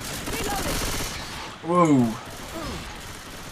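Left 4 Dead 2 gunfire crackles in rapid bursts through the first half, and a shout rises over the shots in the middle.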